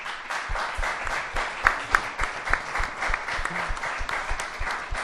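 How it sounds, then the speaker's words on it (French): An audience at a live comedy talk show applauds steadily, a dense wash of clapping that swells and fades slightly across the whole stretch, with no speech over it. "On l'applaudit, Robert."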